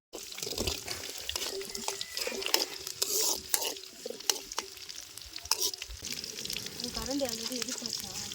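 A ladle scrapes and knocks as village-style fish curry is stirred in a pot over an open wood fire, with irregular clacks and a bubbling, sizzling wash underneath and voices chatting faintly nearby.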